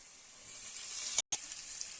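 Mint leaves sizzle gently in a pan with sautéed ginger-garlic paste for parotta salna: a steady, soft high hiss that swells slightly, broken by a brief silent gap before the frying resumes.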